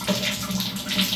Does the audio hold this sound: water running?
yes